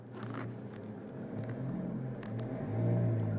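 Car on the Vancouver Island Motorsport Circuit pulling away as the clutch engages, a low engine rumble building steadily in loudness over a few seconds, heard from inside the cabin.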